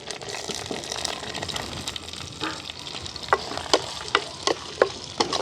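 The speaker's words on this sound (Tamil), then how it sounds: "வெங்காயம் பச்சை மிளகாய் அப்படியே வதங்கட்டுக்கு." Chopped onions and green chillies fry in hot oil with mustard and fennel seeds, giving a continuous close sizzle. Toward the end come a run of quick, evenly spaced stirring taps against the pan.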